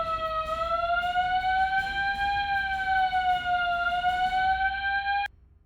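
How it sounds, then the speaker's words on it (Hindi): A house's central alarm system siren going off, a loud, piercing electronic wail with stacked harmonics that slowly wavers in pitch, holding steady for several seconds before cutting off abruptly. "पूरे घर में सेंट्रल अलार्म सिस्टम लगा रखा है।"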